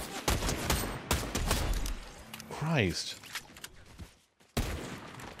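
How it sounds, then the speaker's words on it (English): Video game gunfire on a livestream plays as a rapid fusillade of sharp, loud shots with thuds, under a streamer's exclamation and talk, then cuts to near silence before another burst. "Who are you shooting at down here?"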